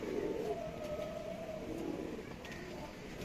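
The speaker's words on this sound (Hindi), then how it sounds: "मजा ही आ गया कबूतर देखने।" Teddy pigeons coo softly in low, drawn-out calls, faint and somewhat distant under a steady background hum.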